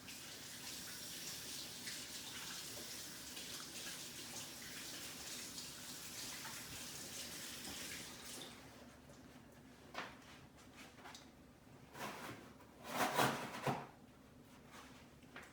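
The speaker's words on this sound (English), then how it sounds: "I just washed my hand because I'm gonna use my hand for this part." Steady running water from a kitchen tap as hands are washed while preparing a Thanksgiving turkey, continuous gushing that later breaks into uneven splashes and rinsing bursts; no talking.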